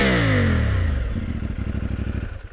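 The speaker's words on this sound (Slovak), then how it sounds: "musím vám tento malý, ale zúrivý motor aj naštartovať" A 2024 CFMOTO 450 MT adventure motorcycle engine with stock exhaust cranks and catches, then settles into a loud, steady, chugging idle with rhythmic pulses.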